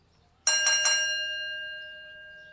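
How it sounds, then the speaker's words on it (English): A single bell rings with a bright quick triple strike, then its clear tone hangs and slowly fades over about two seconds in an otherwise quiet room. "Let's ring the bell."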